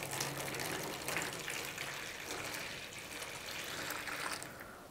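A jug of water poured into a container for a water test of a Redmi 10 Prime 2022 phone, a steady close splashing gush lasting several seconds and easing slightly at the end.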